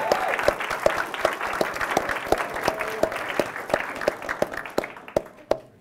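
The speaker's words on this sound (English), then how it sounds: "if we could just give her a round of applause for the work she's done" An audience applauds at a talk on tribal courts in Alaska, a steady spread of claps running the full length with a few sharp individual claps standing out, fading slightly toward the end.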